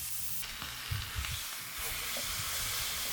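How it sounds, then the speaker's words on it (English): Beef hits a hot oiled frying pan and sears, breaking into a loud, continuous sizzle that holds close and steady after a brief clatter and some shifting at the start. "place the beef in and sear on all sides until it's beautifully browned with a tasty crust forming"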